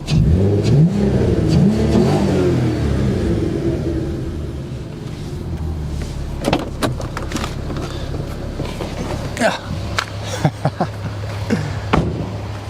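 VW Golf MK4 R32 engine running after a DSG gearbox conversion, a loud revving rise and fall at first, then settling to a steady idle rumble with scattered clicks and knocks close by.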